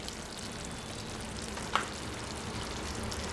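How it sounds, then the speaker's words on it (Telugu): Chicken curry sizzling steadily in a pan with a continuous, fairly loud hiss, and a single brief clink or splat midway as mango pieces go in, with no talking. "మామిడికాయ ముక్కలు వేసుకోవాలి."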